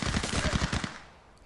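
Rapid pistol fire in the Gangs Town Story street-crime game: a quick string of close, loud shots in even succession for under a second, then a fading tail.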